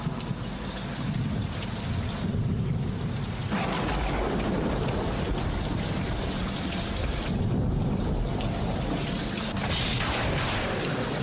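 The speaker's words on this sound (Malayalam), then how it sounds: "ഈ ചാറ്റമഴ" Drizzling rain falls in a continuous close hiss with a low rumbling undertone that swells and eases across the stretch, with no voices.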